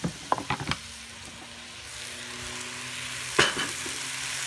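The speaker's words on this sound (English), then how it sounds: "Give it a good stir." Pigtail is stirred into a cooking pot of melting ingredients, with a few quick utensil knocks at the start, a low steady simmering hiss, and one louder scrape and clatter near the end.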